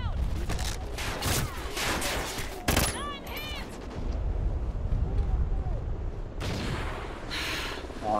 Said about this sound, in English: We just shoot my teammate.